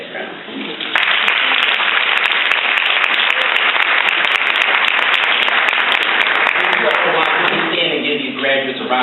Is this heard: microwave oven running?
no